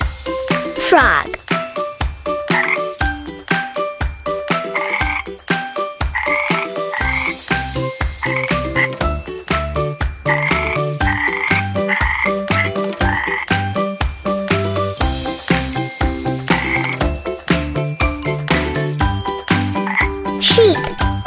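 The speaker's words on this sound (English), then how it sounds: "Frog." A frog croaks in rapid, repeated bursts over a bouncy children's music track with tinkling chimes, and a voice briefly names the animal.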